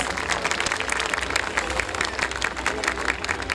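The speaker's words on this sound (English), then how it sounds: "I request the audience, please give them a huge round of applause" At an annual day prize distribution ceremony, the audience gives prize winners a loud, continuous round of applause with a full crowd tone.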